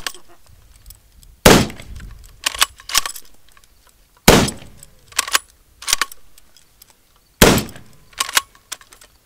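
A 1903 Springfield rifle is fired at a target, giving three loud, sharp shots spaced a few seconds apart. Each shot is followed by quick metallic clacks of the bolt being worked.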